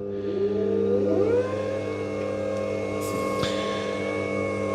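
Holzprofi PB560 drum sander with conveyor belt feed runs with a steady motor whir, its tone sliding upward as the feed speed changes, then holding an even hum close by.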